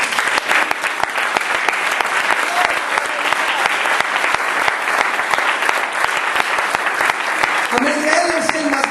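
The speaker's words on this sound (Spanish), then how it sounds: "dale un aplauso al Señor." Church congregation applauding during a sermon, a loud, continuous wash of many hands clapping with a few voices rising over it near the end.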